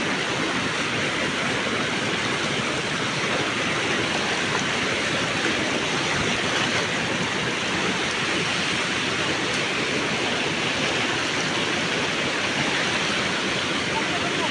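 Rushing river water roars loudly and steadily throughout, a dense unbroken wash of flowing sound.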